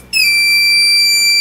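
The overspeed alarm of a car speed checker project kicks in abruptly as a loud, piercing electronic buzzer tone and then holds steady and unbroken, with no talking.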